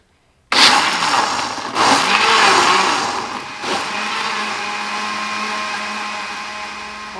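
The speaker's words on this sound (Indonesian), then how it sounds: "Lalu kita blender" An electric blender starts abruptly and runs loud and steady, whirring through a mix of rice, kencur and boiled water for jamu beras kencur, its pitch dipping slightly as the blades bite.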